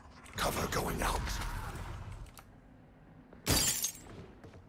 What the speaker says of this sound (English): Bro just broke glass.